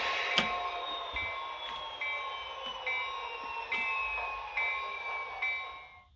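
A model train locomotive runs on a home layout, with a faint steady motor whine and rhythmic clicks of wheels crossing rail joints at roughly regular intervals, quiet and close, with no speech.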